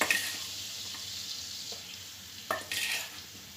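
Butter in a pan for a spinach quiche gives a soft, steady sizzle while something is stirred in. A few louder scrapes and spatters come near the end, and no voice is heard.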